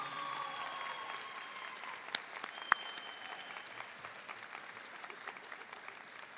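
Applause at a 2019 high school graduation ceremony for Highland High School seniors: a steady, distant wash of many hands clapping in a large hall, with a few sharper claps standing out, fairly faint and without talk.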